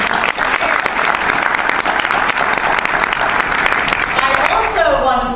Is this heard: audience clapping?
yes